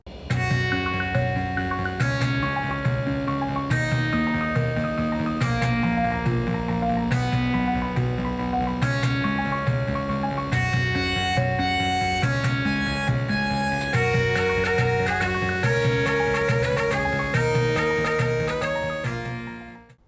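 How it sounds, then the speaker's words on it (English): Bright, buzzy FM-synthesized chiptune music from an AdLib OPL2 sound card of MS-DOS PCs plays continuously, with a bouncing bassline, layered melodic tones and a steady beat in a retro computer-game style. "one popular source is the ad-lib sound card of the MS-DOS PC days, which sounds like this"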